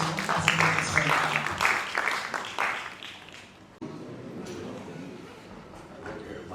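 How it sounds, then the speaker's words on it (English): Applause breaks out from the audience at an opening ceremony for a translation and interpretation seminar, a dense, steady patter of clapping that fades partway through and then carries on more softly, with some voices mixed in. "Let's welcome him with a round of applause too, as he makes his way."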